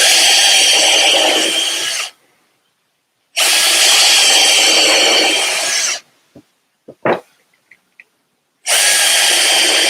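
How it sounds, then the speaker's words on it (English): A power drill whirs loudly in three bursts of a couple of seconds each, drilling holes in salvaged redwood fence-board cleats, separated by quiet gaps with a few clicks and knocks. "I drill 3 holes in these cleats"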